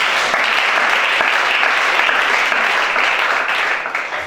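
A church congregation at a 2021 service led by a prophet applauds steadily, a dense, loud wash of clapping sustained throughout without pause.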